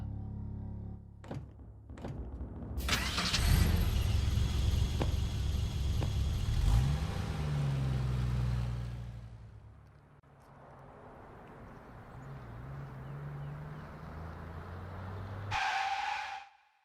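After a few dull thunks, a car engine starts and revs loudly for several seconds, then drops to a quieter idle. A short sharp tone sounds near the end.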